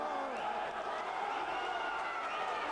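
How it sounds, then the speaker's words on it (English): Boxing crowd in a marquee at the Nürburgring racetrack during Mirovic versus Valuev, a steady, moderately distant roar of cheering voices beneath a commentator's talk. "Crowd getting involved inside the marquee at the Nürburgring racetrack"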